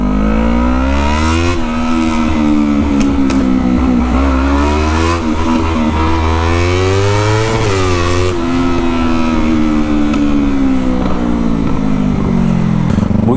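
A Yamaha MT-25 motorcycle on a ride, its exhaust a loud, steady engine drone with rising and falling revs as the throttle opens and eases, close and continuous with no talking.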